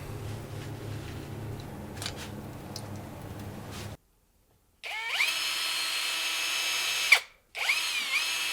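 A power drill unscrews screws on the water intake of a Yamaha 8C outboard motor, whirring in steady bursts with pitch changes, running, stopping briefly, then starting again, close by with no talking.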